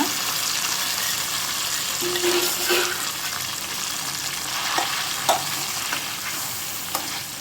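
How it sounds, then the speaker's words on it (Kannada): Cooked rice and lentils are stirred into jaggery pongal in a pan, giving a steady close scraping and sizzling with a few sharp spoon clinks against the pan, and no talking. "ಬೇಯಿಸಿಟ್ಕೊಂಡಿರುವಂತಹ ಅಕ್ಕಿ ಮತ್ತು ಬೇಳೆಯನ್ನು ಇದಕ್ಕೆ ಸೇರಿಸ್ಕೊಳ್ತಾ ಇದ್ದೇನೆ"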